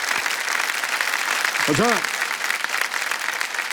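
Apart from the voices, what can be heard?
audience applause for the contestant on the hot seat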